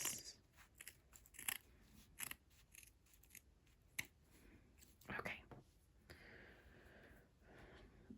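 Sharp scissors snip through fabric in a series of close, crisp cuts with short pauses between them, and a soft voice murmurs faintly in the background.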